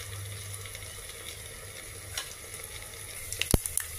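Urad dal, cumin, mustard seeds and a chopped chili temper in a spoonful of hot oil, giving a steady soft sizzle throughout with a few sharp pops and crackles near the end.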